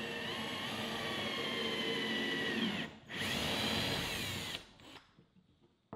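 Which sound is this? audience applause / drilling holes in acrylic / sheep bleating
drilling holes in acrylic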